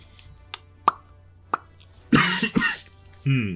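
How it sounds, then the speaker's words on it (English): A few sharp clicks or taps, then a short burst of harsh coughing nearby, followed by a brief vocal sound. "Not entirely over that cough"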